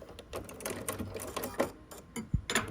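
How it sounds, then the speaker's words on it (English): A sewing machine stitches a quarter-inch seam on a star pinwheel quilt block in short, rapid mechanical bursts with brief pauses between them, close by, with no talking. "If it is all matching, I'll start sewing it with 1/4 of an inch seam allowance."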